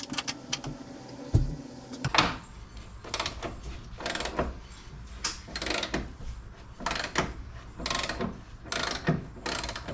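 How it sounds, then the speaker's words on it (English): Breaker bar working rusty bolts loose on a 2005 Ford Focus, a series of sharp metallic clicks and ratcheting strokes at a slow, uneven pace, close by, after some initial clanking. "So I got the breaker bar and I'm taking it slow."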